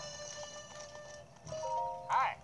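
Horse sounds from the video game Zelda Breath of the Wild, a faint in-game whinny rising near the end over steady game music and ambience.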